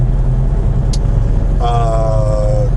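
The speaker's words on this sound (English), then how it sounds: "stop and go traffic for the next 2 miles or so" Steady low engine rumble inside an 18-wheeler truck crawling through stop-and-go highway traffic, loud and continuous, with a brief high hiss near the start and a tonal whine over the last second.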